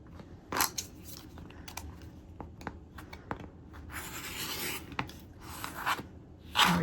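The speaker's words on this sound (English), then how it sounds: "trim off my 1/4 inch seam allowance" Scissors snip through quilting fabric, trimming a quarter-inch seam allowance beside a folded foundation paper while paper piecing; a string of close, crisp cuts and rustles, ending in a louder snip, with no talking.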